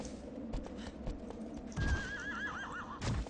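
A horse in the video game Shadow of the Colossus whinnies in a long, wavering cry over the clip-clop of its hooves, with sharp hoof thuds before and after the neigh.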